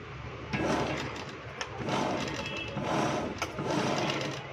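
A sewing machine runs at a slow, steady pace stitching a zipper onto cloth, its continuous whirring and ticking rising and dipping in short surges.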